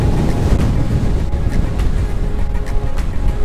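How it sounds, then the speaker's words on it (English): Strong wind buffets the microphone on the Bronze Age hill fort summit of Yeavering Bell, producing loud, continuous, gusty rumbling with no pause throughout. "Although it's quite windy and cold"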